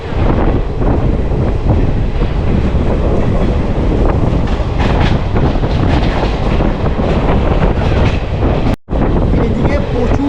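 The Hool Express passenger train rolls slowly out past Kajoragram toward Ukhra station in a coal-mining area, loud and close with a steady rumble, rhythmic clattering of the wheels and wind buffeting the microphone.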